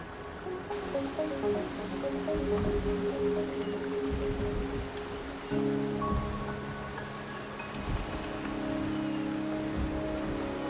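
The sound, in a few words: rain in the video game Wuthering Waves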